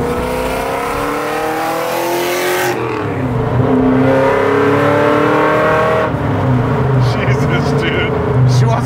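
A supercharged 5.4 liter, 800 hp 1967 Ford Mustang engine accelerating hard, a loud close roar that rises in pitch, drops as it shifts, then climbs again, with people talking under it.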